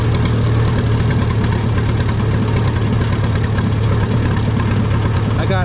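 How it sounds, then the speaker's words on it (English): A WD-45 tractor engine in first gear creeps onto a weigh scale at a spring tractor pull in Lynden. It gives a loud, steady, close-up rumble with a heavy low throb that runs the whole time. "put her in first gear, creep up on the scale"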